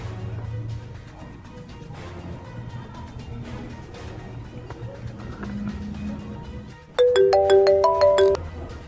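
A phone ringtone rings loudly for about a second and a half near the end, a bright repeating electronic tone that cuts in over a low, murky background.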